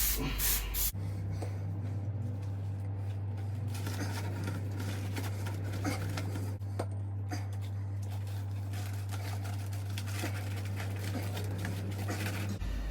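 A continuous hissing spray from an aerosol can of spray adhesive, steady and close, lasting about twelve seconds over a low constant hum.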